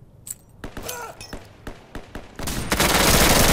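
Gunfire in the tactical shooter video game Insurgency: scattered loud single shots and thuds, then a dense, sustained burst of rapid automatic fire that builds near the end.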